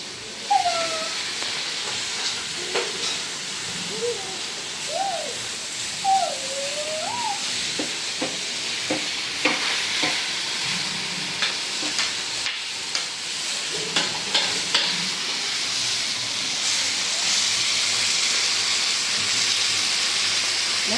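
Food frying in oil gives a steady, close sizzling hiss that runs throughout, with faint high chirping tones scattered over it.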